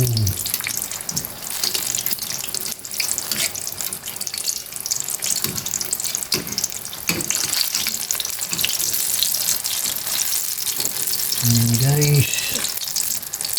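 Eggplant fries in a pan with a steady crackling sizzle while water runs and splashes nearby, and brief clatter of utensils breaks through the frying.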